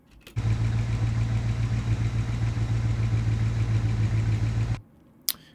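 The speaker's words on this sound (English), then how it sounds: "This is a GMC Sierra from the 1980s, and this is the idle." A 1980s GMC Sierra truck engine idles steadily and loudly up close, a low even rumble that holds for several seconds and then cuts off.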